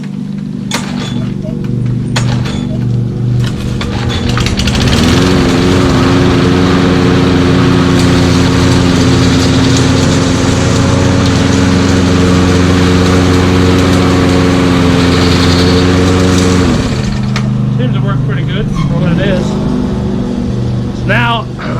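A Toro GTS 6 horsepower self-propelled lawn mower engine runs loud and close with a steady droning hum, rising and then dropping away near the end, while someone talks over it.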